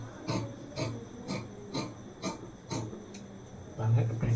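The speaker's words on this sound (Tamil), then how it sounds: "இப்போ இந்த இடத்துல கட் பண்ணி எடுத்துக்கலாம்." Scissors cutting fabric for a Patiala salwar: a steady rhythm of about eight close, rasping snips spaced roughly half a second apart, with a heavier rustle at the end.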